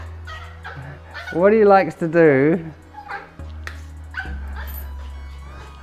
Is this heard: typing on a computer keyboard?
no